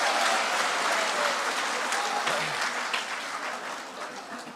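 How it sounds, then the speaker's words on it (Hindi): Sustained audience applause fills a mushaira poetry gathering in Qatar, a dense wash of many hands clapping that starts strong and slowly tapers off, with no talk over it. "तालियों की गूंज में ऐसे सुनिए कि जैसे बिल्कुल"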